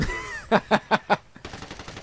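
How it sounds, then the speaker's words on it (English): Enemy gunfire in the online shooter Medal of Honor Warfighter: four sharp, evenly spaced shots ring out close by, followed by a faster, quieter burst of automatic fire. "I'm trying to draw out his gunfire so I can see where he's at"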